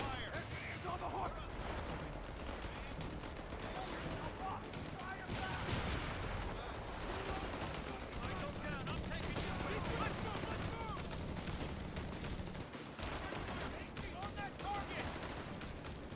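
Gunfire rattles almost without pause in the war video game Slumber Realm, dense bursts and volleys layered over a constant rumble, with voices calling out beneath the shooting.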